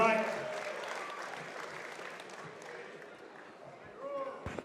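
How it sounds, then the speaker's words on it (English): A crowd applauds after a fight at a combat sports event, the clapping and cheering fairly faint and diffuse in a large hall, steady at first and then thinning, with an announcer's voice over it. "Big round of applause for these two warriors."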